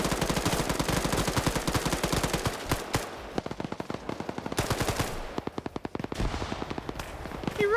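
Rapid automatic gunfire rattles through a PvP video game match, loud bursts of quick shots with a few short pauses between them.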